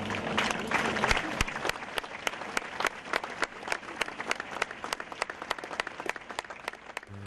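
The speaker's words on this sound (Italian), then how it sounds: "il silenzio e la tensione della cerimonia funebre si sono sciolti in un lungo applauso al passaggio della bara" Long, steady applause from mourners at a funeral ceremony as the coffin passes, with a dense crowd of clapping hands and sharper individual claps standing out throughout.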